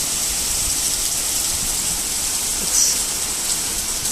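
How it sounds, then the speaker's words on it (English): Heavy rain pours down steadily in Vienna, a dense, constant hiss of drops on surfaces that stays loud and even throughout with no voices. "I love it when it rains like that."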